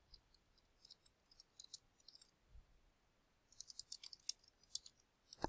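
Sparse computer keyboard typing, light plastic key clicks arriving in short irregular bursts with pauses between, growing denser and louder toward the end, with no voices.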